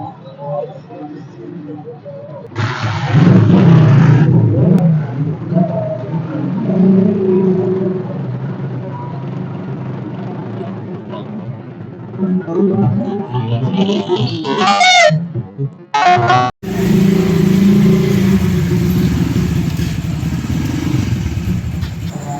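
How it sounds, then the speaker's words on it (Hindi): A motorcycle engine starts up and revs nearby, its low rumble rising and holding steady under ongoing voices chatting and calling out, with a brief cutout partway through before the engine resumes. "चलो चलो बाइक स्टार्ट करो अपने"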